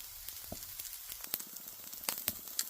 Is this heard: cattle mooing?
no